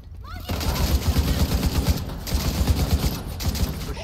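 Suppressive automatic gunfire in The Division 2, a sustained rapid rattle of shots at close range that starts abruptly and keeps up steadily, with faint voices underneath.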